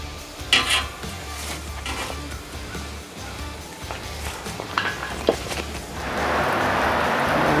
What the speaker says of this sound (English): Just stir up the fire a little bit